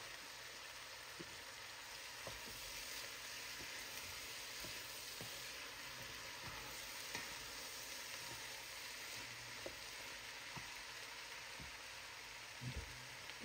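Lima, black and red kidney beans simmering in a pot of plant-based chili with Beyond Sausage, a quiet steady sizzle and bubbling with scattered soft clicks and taps, no voices.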